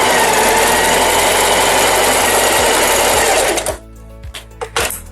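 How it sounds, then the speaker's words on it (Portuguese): Sewing machine stitching a line through synthetic fabric and lining for a zippered toiletry bag, a loud, close, rapid motor whir that runs steadily, then stops and gives a few short restarts at the end. "vem passando uma costurinha de segurança só pra gente deixar fixado"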